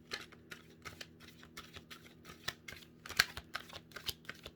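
Tarot cards are shuffled close by in quick, uneven bursts of crisp snapping and riffling, with short pauses between them.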